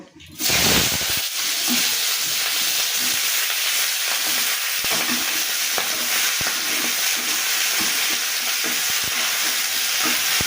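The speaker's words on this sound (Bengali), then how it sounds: "এবার আমি পেঁয়াজগুলিগুলো তেলের মধ্যে দিয়ে দেবো" Onions going into hot oil in a wok: a burst of loud frying sizzle starts almost at once and holds steady, with scattered scraping stir clicks throughout.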